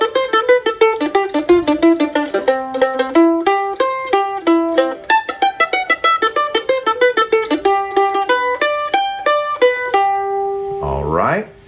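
A stringed instrument picks a bouncy bluegrass-style lick through a 1-4-5 chord progression, with quick, evenly spaced notes ringing clearly for about ten seconds before a voice briefly begins at the end.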